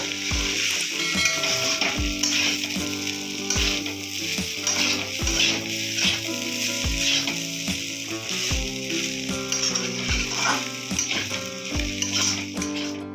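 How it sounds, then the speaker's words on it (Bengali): Maggi noodles fry in a pan with a loud, steady sizzle. Stirring scrapes and utensil knocks recur at regular intervals, and music plays in the background throughout. "এবার ম্যাগিটাও একটু ভেজে নেব।"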